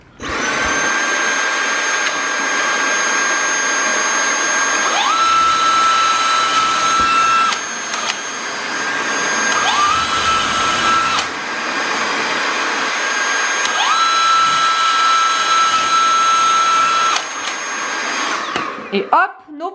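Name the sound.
Dyson vacuum cleaner sucking up dust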